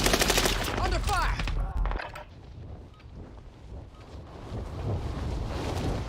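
Gunfire crackles in a Call of Duty video game, with rapid, loud automatic bursts packed into the first two seconds, then dropping to a softer rumbling background.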